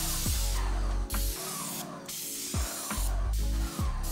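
A paint sprayer spraying primer onto wooden bench pieces hisses in repeated bursts, each spray cut by a short pause, with a rough, airy roar close to the listener.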